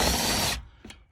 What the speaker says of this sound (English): I'll show you screwing that in. It just eventually taps into the sheet metal.